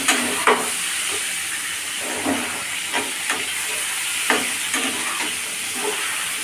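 Pointed gourd fries in a pan, a steady moderate sizzle and hiss with occasional stirring scrapes and soft knocks throughout.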